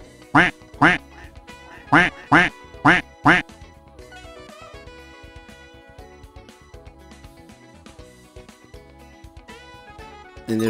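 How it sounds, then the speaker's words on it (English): Eight loud duck quacks ring out in quick paired bursts as a salute, followed by a softer bed of tonal music. "there's the eight quack salute specifically for Bill Miller's duck"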